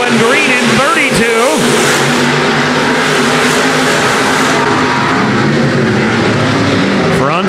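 Stock cars race around the Nobles County Speedway in an Iron Man Stock Car event, several loud engines roaring and revving nonstop up close while an announcer talks over the din.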